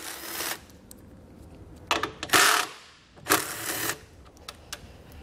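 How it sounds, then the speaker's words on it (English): A hand socket ratchet clicks in short bursts while backing out 10 millimeter bolts at each corner under the hood of a 2016 vehicle, sharp pawl clatter in several quick runs separated by brief pauses, close and fairly quiet. "So we'll grab our socket and pull those out."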